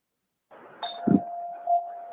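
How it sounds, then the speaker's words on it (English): A drive-through bell at a barbecue restaurant gives one clear electronic chime that holds as a steady ringing tone, joined by a brief low thump and faint background noise. "I think I heard the drive-through bell ringing over there at Choo Choo Barbecue."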